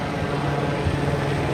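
A helicopter flies over La Jolla beach, its rotor and engine making a steady low throbbing drone at moderate distance, unbroken for the whole moment.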